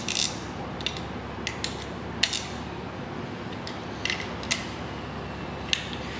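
A ratchet snugging down the timing cover bolts on a Ford 302 small block V8 engine, with short bursts of quick metallic clicking scattered across a quiet shop background, near and fairly faint.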